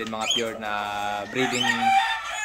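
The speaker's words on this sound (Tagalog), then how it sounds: "ito nga po ang ating super broodstags na dome" A gamefowl broodstag rooster of dome breed crows loudly and close by, with one long drawn-out cock-a-doodle-doo followed by a second crow, and nothing else heard around it.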